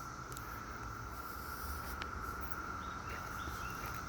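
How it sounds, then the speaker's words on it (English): Cicadas drone in a steady, unbroken buzz that holds one pitch over constant outdoor background noise, with no talking. "just that sound of those cicadas is kind of an eerie sound"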